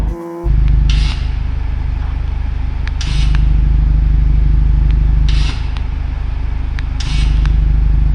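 Genesis G80 with an electronic variable exhaust valve switched by remote, idling as a steady low drone that jumps louder each time the valve opens, then drops back, several times in a row.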